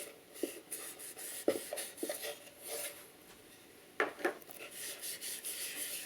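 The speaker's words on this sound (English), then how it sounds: "just chamfer these edges a little bit too, because these are too sharp." Hand tool chamfering the sharp edges of a pine candle box, with short scattered rasping strokes and rubs in irregular bursts, close and fairly quiet, with pauses between passes.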